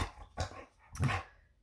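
Playing dogs let out two brief barking, squeaky yelps close by, with a faint growl between them.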